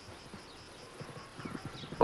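Horse hooves clop on the ground in an uneven walking rhythm, fairly close, with faint background ambience.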